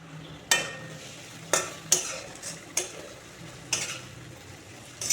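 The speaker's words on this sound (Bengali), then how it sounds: "এই মশলাগুলোকে আমি কিছুক্ষণ খুব ভালো করে কুক করে নিচ্ছি" Ground coriander, cumin and turmeric with salt frying in hot oil for doi katla, a Bengali yogurt fish curry, with several sharp spatula scrapes against the pan over a steady low sizzle.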